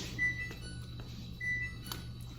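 A kitchen oven sounds two short electronic beeps as it reaches its preheat temperature, clear against a low steady hum, with no one speaking.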